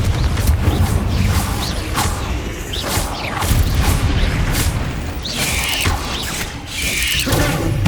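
Spells in Hogwarts Legacy are cast in rapid succession, producing loud, dense whooshes, booms and crackling impacts that pile into a continuous roar of combat effects with no speech.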